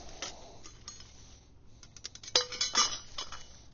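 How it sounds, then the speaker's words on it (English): A metal ash pan slides into the bottom of a twig stove, giving a few light metallic clinks and scraping taps, quiet and close, with short pauses between them. "The ash pan slides in the bottom."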